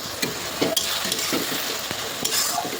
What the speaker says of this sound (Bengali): এবারে আদা রসুনটা কিন্তু ভাজা ভাজা করে নেবো